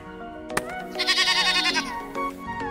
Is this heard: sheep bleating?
yes